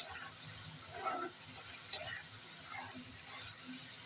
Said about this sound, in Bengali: হলুদ সর্ষে আর কালো সর্ষে একসঙ্গে বেটে রেখেছি দিয়ে দেবো হালকা একটু নাড়াচাড়া করে বেশি একটা নাড়াচাড়া করা যাবে না তেলের উপর হালকা নাড়াচাড়া করেই